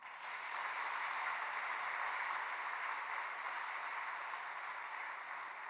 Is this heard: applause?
yes